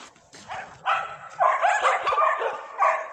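Several stray dogs in a pack bark and yelp in bursts from close to mid distance, the barking overlapping and rising in intensity toward the middle before a final burst.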